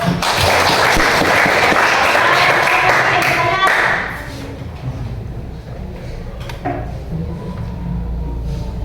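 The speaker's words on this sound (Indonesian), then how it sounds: "Oke, kita beri aplaus." Applause from a classroom audience fills the first four seconds, loud dense clapping that stops abruptly, leaving quieter room noise and faint voices afterward.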